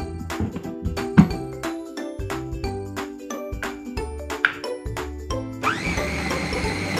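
An electric chopper whirs in short bursts as it grinds ice water and ice cubes for cilok dough, with rattling, clinking pulses, then a steadier high whine near the end, loud and close with no voices.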